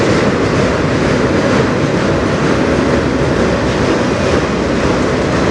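A train rolls past on the Strathroy Subdivision, a loud, steady and close roar of wheels and cars that holds unbroken throughout, with no voices.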